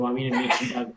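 A single sneeze, close and sharp, bursts out in the middle of someone talking on a voice chat during a Minecraft session.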